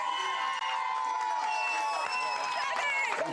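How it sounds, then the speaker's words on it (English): Studio audience cheering and clapping for Mummy Costa at a celebrity restaurant event, a steady dense roar mixed with shouts and a voice speaking over it. "so give her a round of applause."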